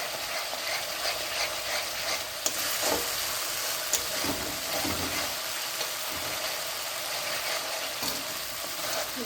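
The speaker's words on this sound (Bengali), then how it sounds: "এখন আমি এই মশলাটাকে অনেকক্ষণ ধরে কষিয়ে নেব।" Spice paste with turmeric frying in oil in a pan, a loud continuous sizzle with scraping stirs running through it.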